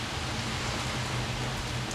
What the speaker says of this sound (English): Sounds like a rainy night at the end.